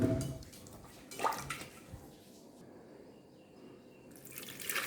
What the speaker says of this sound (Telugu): సరిపడగా నీళ్లు వేసుకుని